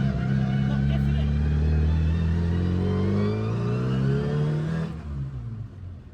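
A World Rally Classic Mini drives on a road, its engine loud and close, rising in pitch as it accelerates before easing off near the end.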